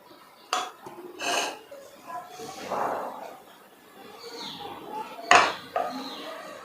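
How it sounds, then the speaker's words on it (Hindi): Metal pan, utensils and a plate clinking and scraping as noodles are served out onto the plate, a series of separate clanks with one sharp louder hit near the end, with quiet talk in between. "चलिए हम ले लेते हैं प्लेट में निकाल के"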